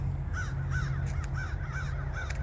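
Crows caw in an outdoor woodland setting, six or so harsh calls in an even rhythm at moderate distance over a low background rumble.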